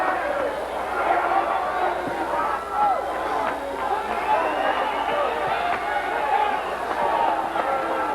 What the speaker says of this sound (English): Crowd trying to get pumped up here in the latter stages of the 12th and final round.